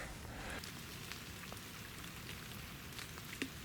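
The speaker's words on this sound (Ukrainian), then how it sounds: "пішов пішов дуже-дуже сильний дощ" Heavy rain falling steadily during pike fishing on backwaters of the Psel River, a dense continuous hiss with occasional louder drop splashes nearby; no talking.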